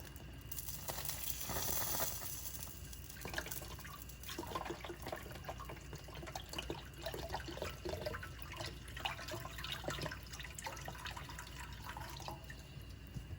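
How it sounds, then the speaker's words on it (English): Chicken stock is poured into a hot frying pan to deglaze it, giving a continuous splashing, bubbling liquid sound up close that runs steadily throughout with no talking. "I'm going to pour the chicken stock."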